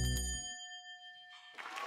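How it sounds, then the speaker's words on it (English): A game show winning bell rings out with a bright, sustained metallic ding that lingers and fades, followed by a burst of noisy reaction at the end. "Every time the bell goes off"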